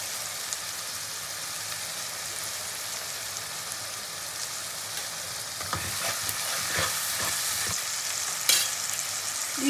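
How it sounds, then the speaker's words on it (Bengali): Onions frying in oil with salt hiss steadily up close, a soft constant sizzle with a few louder crackles and stirring clatters toward the end. "তো পেঁয়াজটা আমি খুব ভালো করে ভেজে নেব।"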